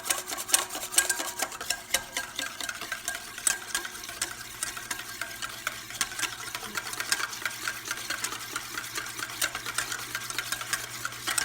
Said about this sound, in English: they haven't stopped whisking and mixing